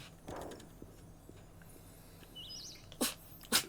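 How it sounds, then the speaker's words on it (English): Two short, sharp bursts of breath near the end, like sneezes at close range, after a stretch of quiet background noise. "so much for sneezing on my face."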